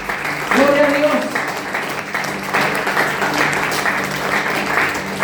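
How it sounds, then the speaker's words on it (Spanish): A church congregation applauds during a sermon, producing a dense, loud wash of clapping that stays steady throughout, with a brief sung or shouted voice near the start rising above the crowd. "dale un fuerte aplauso al Rey de Reyes"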